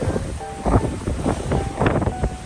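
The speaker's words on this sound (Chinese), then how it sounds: "今天风很大，好像开很快的样子。 你看那个浪" Gusty wind buffets the microphone in uneven bursts on a cruise ship deck while waves wash and churn nearby at sea.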